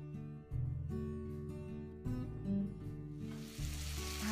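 Bread rolls fry in hot oil with a steady close sizzle and bubbling, swelling at moments as they are moved, plus faint stirring, with no voices.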